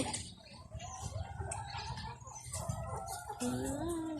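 Chickens clucking on an egg farm where ducks are also kept, a busy, continuous chorus of overlapping clucks and calls nearby, lasting the whole time.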